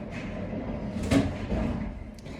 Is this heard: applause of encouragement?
no